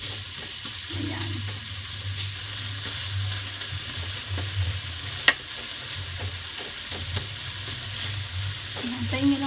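Potato and carrot pieces fry in a pan for chicken and pork mechado, with a steady close sizzle throughout and an occasional light utensil clink, no talking.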